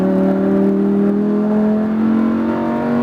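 A Lamborghini Huracan accelerating on a race track, its engine note rising steadily and loud close-up from inside the car, a sustained droning roar that climbs gradually in pitch throughout.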